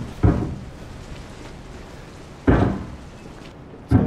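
Heavy knocks on a door in Resident Evil 7, three separate dull thuds spaced a couple of seconds apart against a quiet, rainy-sounding ambience.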